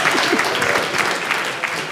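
Scattered applause from a comedy club audience during a stand-up special, fairly dense but modest and steady, with bits of crowd noise mixed in under the clapping.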